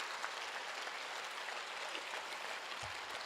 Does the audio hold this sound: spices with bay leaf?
no